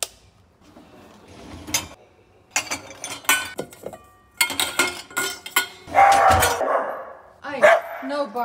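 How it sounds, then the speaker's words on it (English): King Charles Cavalier dogs bark in short, sharp bursts indoors, scattered irregularly across several seconds among dish and cutlery clinks, with a person speaking between the barks. "Hey, no barking."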